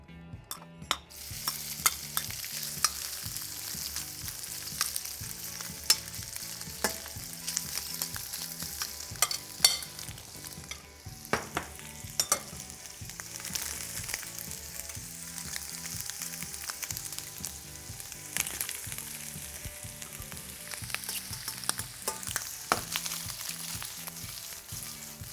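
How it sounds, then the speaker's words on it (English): Shrimp sauté in a hot pan with a touch of walnut oil, a continuous crackling sizzle punctuated by frequent close clicks and scrapes as they are tossed. "Now we only need to saute these shrimp for about 45 seconds."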